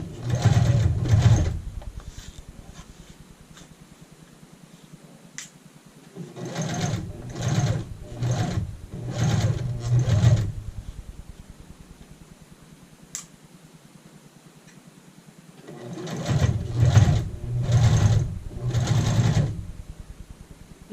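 Sewing machine stitching an apron strap in fabric, running in several short bursts of rapid needle clatter separated by pauses, close and clear with no talking.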